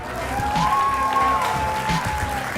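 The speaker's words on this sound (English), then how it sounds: "Ladies and gentlemen, round of applause," An audience at a Clash Royale tournament in Helsinki, Finland claps in a steady wash of applause, with a sustained tone running through it.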